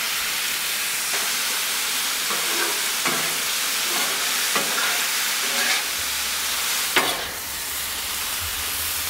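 Marinated pork, carne de pastor, sizzles steadily on a Blackstone griddle, a constant broad hiss with a few scraping stir clicks and a low hum beneath, no talk.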